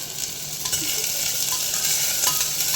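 Shallots sautéing in a pan for mutton curry give a steady, close, bright sizzle with a few soft stirring scrapes, no voices.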